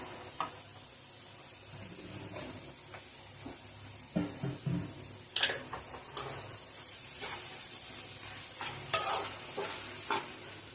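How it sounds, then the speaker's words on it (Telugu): Cooked rice for tomato rice is mixed with salt in a pan, with a low sizzle under repeated scraping and clacking of a spoon against the pan, quiet at first and then livelier, with louder knocks partway through. "రైస్ ని యాడ్ చేసుకున్నాక రుచికి సరిపడిన ఉప్పు వేసుకొని మొత్తం అంతా కలిసేలా కలుపుకోవాలి"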